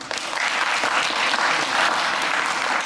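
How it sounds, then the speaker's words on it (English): Audience at a Black Minds Matter event applauding, a dense, steady round of clapping that fills the space at even volume from start to finish. "we thank you for your round of applause"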